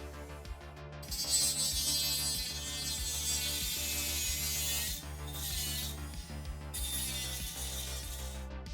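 A power tool grinds steadily against a plastic miniature base being cut down for rebasing, a continuous whirring with brief pauses and restarts, close and fairly quiet with no talk.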